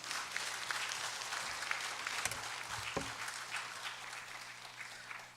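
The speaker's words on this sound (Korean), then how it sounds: "우리 필리핀에서 오신 우리 심영재 선교사님 모실 때 뜨거운 성원의 박수" Church congregation applauding to welcome a missionary from the Philippines, a continuous, fairly faint hiss of many hands clapping with a low hum underneath, fading slightly toward the end.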